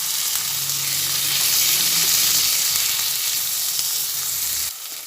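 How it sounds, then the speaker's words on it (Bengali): Onion, green chilli and tomato sizzle steadily in a pan while being stirred, a loud, close, continuous frying hiss with a few scraping strokes, then the sound drops away abruptly near the end. "সব দিয়ে আবার ভালোভাবে নাড়াচাড়া করে নিচ্ছি"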